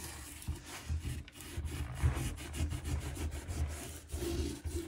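Bar Keepers Friend cleanser being scrubbed around the mold-stained ring of a stainless steel sink drain, giving a steady close rubbing, rasping sound with repeated strokes throughout.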